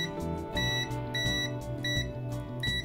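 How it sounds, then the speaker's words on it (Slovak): A VENLAB VM-600A digital multimeter in continuity test mode gives a run of short, steady high electronic beeps, repeating roughly every half second at a clear, close level over a continuous background hum. "Teraz by to malo byť na ten pípak tej zvodivosti"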